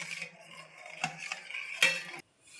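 A spoon stirs chopped cashews and almonds into a watermelon ice cream mix in a bowl, making close, wet scraping swishes punctuated by a few sharper clinks against the side before stopping.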